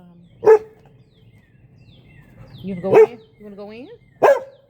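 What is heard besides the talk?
dog barking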